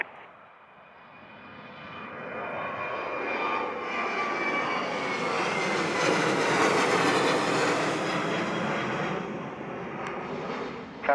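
An airliner rolls for takeoff on runway 07 in Jamaica, a distant jet rumble swelling to a loud roar as it passes and then fading away.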